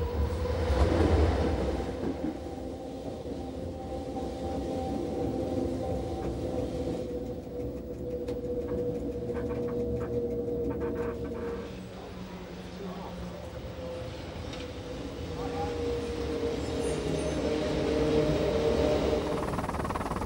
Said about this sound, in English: This takes our train for almost 300 metres right under the centre of Arosa.